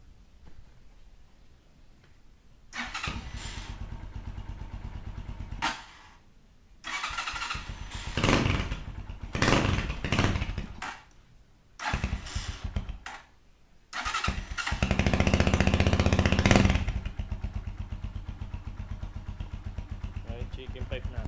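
A Rusi motorcycle fitted with a chicken pipe exhaust is started and revved in short bursts, then settles into a sustained louder run and idle. It sounds fairly close, with a person talking in between.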